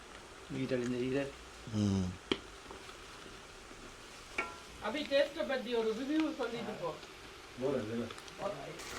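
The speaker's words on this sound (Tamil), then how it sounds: "இதுதான் முக்கியமான கட்டம் இருக்குது வதங்கி பொரிஞ்சு குடல் வறுவல்" Lamb intestines frying in a pan for a spicy Tamil-style fry, a faint sizzle beneath someone talking in several bursts, with occasional stirring noises.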